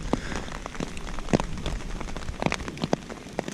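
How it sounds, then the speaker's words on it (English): Rain patters on a Snugpak Stratosphere bivvy bag at a wild camp, a light, uneven scatter of close drops tapping the fabric over soft background hiss, with no voices. "the rain has just come in slightly"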